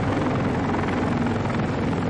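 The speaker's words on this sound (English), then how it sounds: "By late afternoon, the chopper flow at the embassy really started." Helicopter flying in at the US embassy in Saigon during the April 1975 evacuation, a continuous loud rotor thrum and engine roar that holds steady with no voices.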